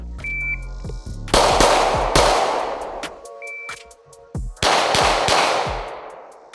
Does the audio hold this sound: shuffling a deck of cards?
no